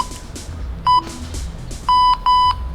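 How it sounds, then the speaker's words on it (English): A workout interval timer for a beginner racket-skills routine at home gives one short electronic beep and then two longer beeps, loud and clear over faint room noise. "Going to start my timer."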